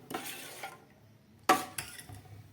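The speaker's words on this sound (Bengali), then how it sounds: "কর্নফ্লাওয়ারের সঙ্গে ডিমটাকে খুব ভালো করে মিশিয়ে নিলাম।" An egg being whisked with cornflour in a bowl, giving two short bursts of scraping, clinking stirring separated by a pause, close and alone with no talk.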